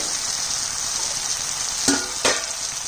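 Yogurt-marinated chicken drops into a pan of spiced masala and fries, giving a steady loud sizzle with two sharp bursts of crackle as the pieces hit the hot oil, with no talking.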